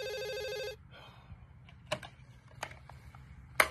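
A telephone bell rings in one sustained burst, then stops, followed by a few sharp clicks and taps in a quiet room.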